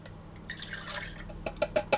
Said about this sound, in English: That's the lemon juice, the white condiment and the oil into a container.